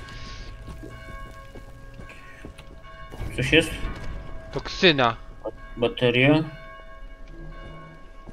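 Church bells ring in the Dead Island video game with steady tolling tones in the background, while players talk over them in the middle of the clip.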